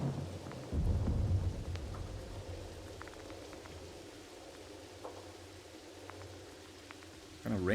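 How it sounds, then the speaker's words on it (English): Rain falls with thunder in the video game realMYST, a deep rolling rumble swelling early then fading into a steady hiss of rainfall with scattered drips, before a fresh surge of rumble at the end. "Kind of rain sound."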